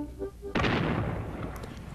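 Civil War cannon fire booms in a single heavy, close blast that rolls into a long rumbling decay, with faint cracks of gunfire following. A voice speaks briefly just before the blast.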